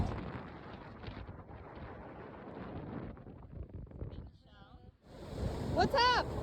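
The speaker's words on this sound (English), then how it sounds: "It is definitely windy here on Whitney Beach, but it's beautiful." Gusty wind and rolling surf rush continuously on Whitney Beach, Florida, then fade briefly before returning louder, with a high whistling or squeal near the end.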